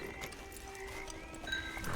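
In the video game Red Dead Online, a horse's hooves clip-clop in a steady walking rhythm at moderate distance. Light tonal ambience sounds beneath the hoofbeats.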